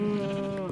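A lone Minecraft sheep gives one steady, sustained bleat, close and clear, lasting well under a second with no voices over it.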